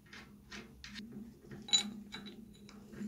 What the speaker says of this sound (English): You fit a washer, then one of the lock nuts goes on.